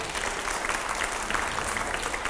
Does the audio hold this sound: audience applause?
yes